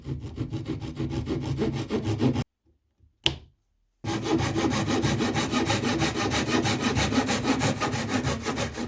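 Steady back-and-forth rasping of a hand saw cutting wood with a magnetic blade guide, close and continuous, with a brief pause and a small clack midway before sawing resumes.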